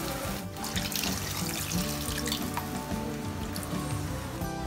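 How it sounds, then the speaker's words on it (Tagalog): Water poured into a cooking pot of braising pork for pork kaldereta, a steady splashing stream that runs near and fairly loud throughout. "So, itong tubig ay ina-add natin, no, para lang mapalambot natin yung ating karne."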